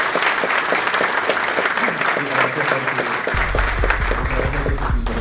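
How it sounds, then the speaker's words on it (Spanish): Audience applause at a cybersecurity congress for banking and government in Lima, Peru, honoring the speakers and panelists; steady, dense clapping fills the hall throughout, with a low rumble joining partway through. "Les pido por favor un fuerte aplauso para ellos."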